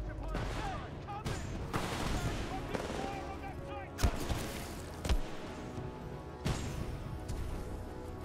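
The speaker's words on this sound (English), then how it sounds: "Commencing supporting fire." Supporting gunfire in a Titanfall 2 campaign battle, a steady wash of automatic shooting with several sharper heavy impacts standing out, fairly quiet overall and layered with game voices and other combat noise.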